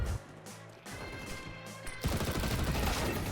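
Bursts of gunfire from the video game Counter-Strike 2: rapid repeated shots, then a louder, denser stretch of firing near the end, with no talking.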